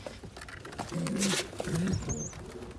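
Pigeons in a home loft with newly hatched young give two low, rolling coos close by, mixed with rustling, fluttering movement and some background noise.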